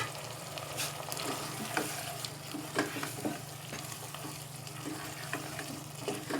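Beef stew with ginger and coriander frying in a pot, a steady sizzle under repeated scraping and clinking as it is stirred, close and fairly quiet with no talk.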